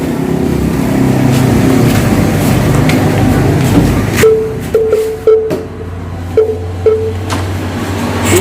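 A Honda GL Max motorcycle, kick-started after restoration, runs with a loud, close engine drone. Partway through, the sound shifts into a rougher idle with sharp intermittent pops and throttle blips.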